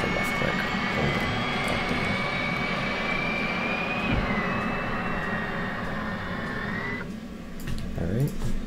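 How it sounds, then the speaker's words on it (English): An F/A-18C auxiliary power unit runs in DCS World as a steady, loud whining drone with a rising tonal whistle that shifts pitch, heard continuously under occasional cockpit clicks. "turn the APU on. And we'll let that run out"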